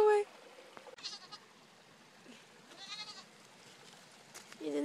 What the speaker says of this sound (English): there's a little goat there.